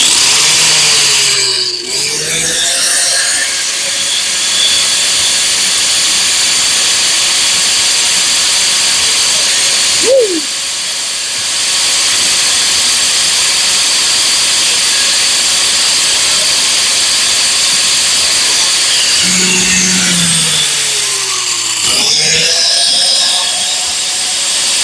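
Angle grinder cutting a laser-cut metal reluctor wheel for a Ford E4OD transmission, a loud sustained whining grind that dips and changes pitch as the disc bites, with brief spin-up and spin-down at each end.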